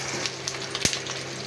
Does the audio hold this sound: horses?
no